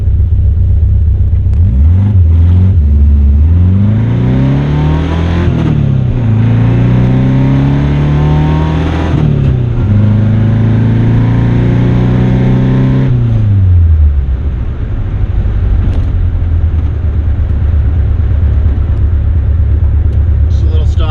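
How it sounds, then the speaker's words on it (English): A Saab Sonett accelerates hard from a stoplight, its engine rising in pitch through several gear changes in a loud, close run, then settling into a steady cruising drone. "Just a little stoplight racing,"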